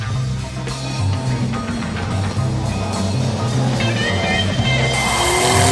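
A RUF CTR Yellowbird, a Porsche 911-based sports car weighing about 2,600 pounds, drives with a loud, steady engine roar and rising tone near the end, with faint talking underneath.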